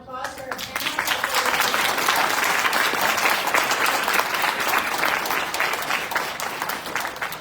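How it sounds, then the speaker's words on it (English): A room full of people at an HR panel event claps loudly and steadily for the panelists, a dense, sustained wave of applause lasting several seconds with no pauses. "how about a round of applause for our panel?"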